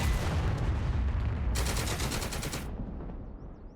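Rapid bursts of close, loud gunfire at point-blank range in the Second Front war game, a dense crackling volley that sharpens midway and then fades toward the end.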